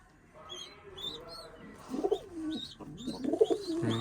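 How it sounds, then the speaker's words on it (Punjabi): Pigeons coo softly at close range, low throaty murmurs that build and repeat in the second half, joined by faint higher chirps against a quiet background. "ਕਬੂਤਰਾਂ ਨੂੰ ਦਾਣੇ ਪਾਤੇ ਦਾਣੇ ਸਾਰੇ ਕਬੂਤਰ ਨੇ ਖਾ ਲਏ"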